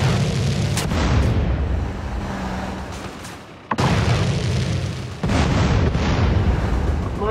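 Repeated heavy explosions from cars blowing up at roadblocks in GTA San Andreas, deep booming blasts with long rumbling tails, several bursts in a few seconds, loud and without speech.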